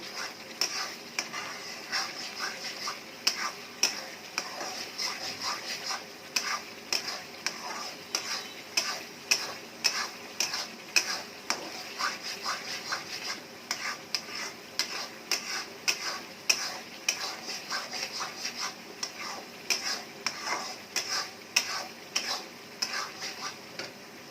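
Chicken pieces are stir-fried in a thick, cooked-down spice paste for Kabuli murgh pulao. A soft, steady sizzle runs throughout, with a continuous rhythm of spatula scrapes and clicks against the pan, close and moderately quiet.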